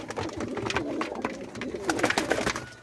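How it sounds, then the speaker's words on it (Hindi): Pigeons coo in soft, throaty bursts from fancy birds kept at a rooftop loft in Rampur, several overlapping calls close by with no talking. "सारे अच्छे कबूतर हैं, आप प्रोडक्ट सुन सकते हो कबूतर।"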